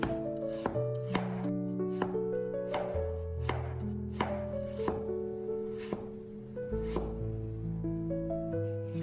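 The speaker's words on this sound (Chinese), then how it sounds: "土豆片我们尽可能的切薄一些。" A knife slices a potato thin against a cutting board in a sharp, steady chopping rhythm, the crisp cuts close and regular over soft background music.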